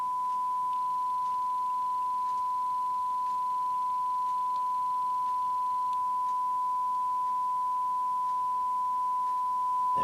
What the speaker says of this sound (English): we should now be getting the 1 kHz sine wave into the PCM-F1